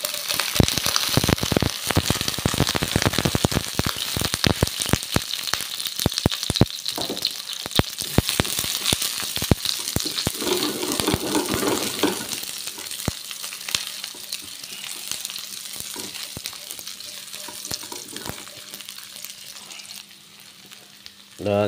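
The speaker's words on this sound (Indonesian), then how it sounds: "masukkan minyak masak dan tunggu sehingga panas. Kita masukkan bawang merah," Shallots and garlic dropped into hot cooking oil sizzle and crackle loudly and continuously up close, fading gradually to a softer fry.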